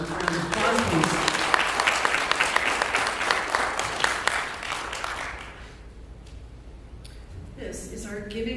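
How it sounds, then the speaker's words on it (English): A congregation applauds Reverend Marion during a church service, full steady clapping that fades out after about five seconds, followed by quiet room tone and faint voices. "Let's give Marion, Reverend Marion, one more round of applause, please."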